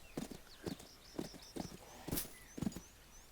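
A horse in the Western video game Call of Juarez: Bound in Blood clip-clops in evenly spaced hoofbeats, about six clear strikes at a walking pace with faint high chirps in the background.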